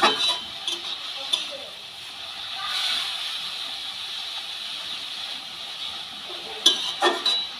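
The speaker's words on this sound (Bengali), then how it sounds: "কাঁচা লঙ্কা রসুন দিয়ে বেতো শাকটাকে ভালো করে তেলের মধ্যে নেড়ে নেব" Bitter betho greens with green chili and garlic stirred in hot oil, a steady close hiss of frying with a few soft scraping and clattering stirs near the start and end.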